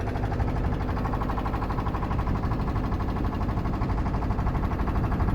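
A boat engine runs steadily on a coastal trip near Honnavar, a loud, close, continuous rumble with a fast regular mechanical pulse and no voices.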